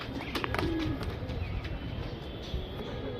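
Pigeons from a lot offered for sale coo steadily, several soft low calls overlapping at close range against a busy background murmur with faint chirps.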